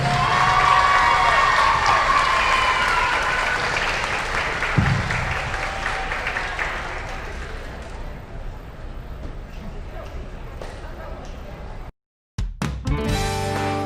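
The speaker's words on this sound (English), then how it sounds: "let's hear one final round of applause for your" A gym crowd applauds and cheers for the Grayson County Lady Cougar volleyball seniors, loud sustained clapping under a busy hall, fading over several seconds before a brief cut and some trailing noise.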